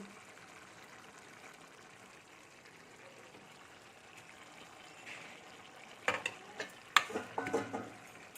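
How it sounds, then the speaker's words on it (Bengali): Vegetable curry with fried eggs bubbles faintly in a pan for several seconds, then a few louder stirring clinks and scrapes come near the end, with no voices. "সবজিটা আমার ফুটছে আমি একটু ঘেটে নিচ্ছি"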